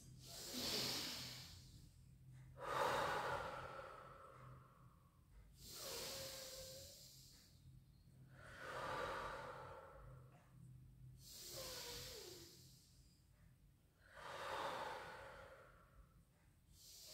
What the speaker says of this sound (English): just gently take some lovely deep in out breaths